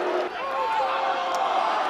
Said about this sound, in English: Their fans are up and cheering here inside the Dome.